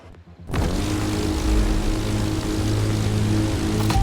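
A stunt plane's propeller engine in The Crew Motorfest roars up suddenly after a brief quiet moment, then holds a loud, steady droning buzz close by for several seconds, no talking.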